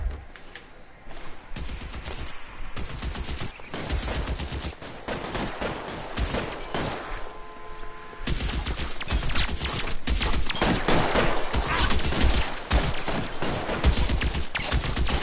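Sustained gunfire from a shootout in the video game L.A. Noire, with dense, overlapping shots and bursts running loud throughout, briefly thinning midway before intensifying again.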